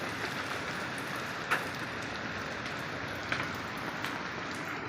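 Steady rain falls outdoors in Saudi Arabia, a dense, even hiss of drops with a couple of sharper individual splats, continuous and moderately loud with no voices.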